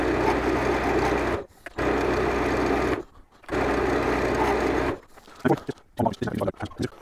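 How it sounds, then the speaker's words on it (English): Steady whirring hum of a lathe spinning a wooden wand while its edges are sanded, in three long even bursts separated by short pauses, followed by scattered light knocks and handling noise. "this would still sand down fairly quickly, those edges"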